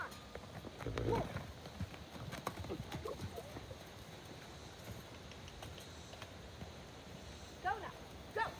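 Horse hooves clip-clop at a steady pace during a horse training session, fairly close and moderately loud, with people talking and calling out over the footfalls.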